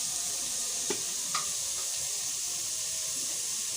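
Ginger-garlic paste hitting hot oil in a pan while cooking soybean biryani, giving a steady close hiss and sizzle throughout, with a couple of faint utensil taps early on and no talking.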